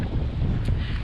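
Wind gusts buffet the microphone at Fowlers Bay, a continuous rough rumbling roar with no other sounds.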